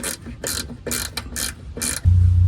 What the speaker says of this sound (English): Take these 3 bolts out and remove the inner fender.